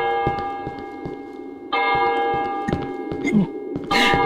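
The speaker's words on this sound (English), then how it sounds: "Church bells, come on, man." Church bells ringing in the horror video game Cry of Fear, a steady sustained bell tone that swells louder partway through, with scattered clicks and short game noises around it and no talk.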